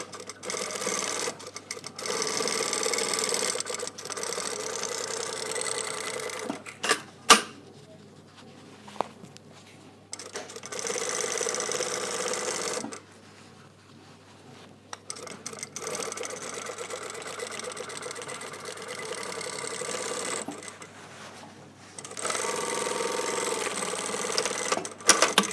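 A sewing machine stitches a blazer's pocket bag closed in close, steady bursts of whirring, with several short pauses between runs and no talk.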